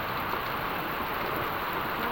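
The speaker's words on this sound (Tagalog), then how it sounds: "lakas ng ulan" Heavy rain pours steadily in a dense, even hiss with no other sounds standing out.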